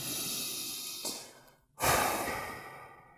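A person breathes slowly and deliberately, with one long audible exhale, a short pause, then a deep, noisy inhale-and-sigh heard up close in a quiet room.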